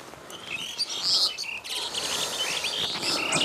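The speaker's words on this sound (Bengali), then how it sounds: "এই যে পাখির কিচিরমিচির" Birds chirping on a cold winter morning in rural Rangpur near fishing-net structures, a chorus of small tweets and twitters close by over a steady insect-like buzz.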